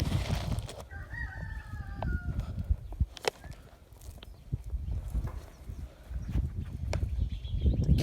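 Free range chickens outdoors giving a few faint, scattered clucks and calls amid rustling and handling noise, quiet and intermittent.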